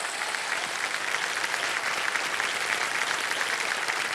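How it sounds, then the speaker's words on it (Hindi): Studio audience applauding on the set of the Hindi quiz show Kaun Banega Crorepati, a steady, even wash of clapping that stays fairly soft and continuous without a break. "एक बार जोरदार तालियां उनके लिए भी बजते हैं।"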